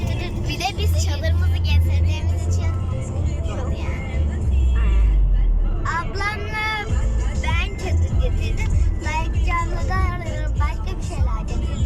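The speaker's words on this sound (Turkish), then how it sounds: "Şöyle arabayı sürüyoruz" Steady low engine rumble and road noise inside a moving car on a family drive to a picnic, with people talking over it throughout.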